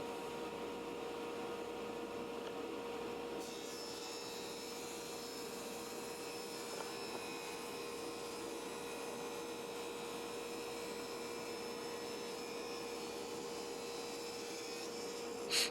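A saw runs steadily as it rips thin wood strips against a Woodpeckers Thin Rip Guide, a continuous close motor whine and cutting drone that holds level throughout with a brief knock at the end.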